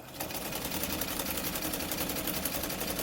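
A White 565 sewing machine stitching a wide zigzag stitch, a fast steady mechanical whir with rapid rhythmic needle clatter, close and continuous throughout with no talking.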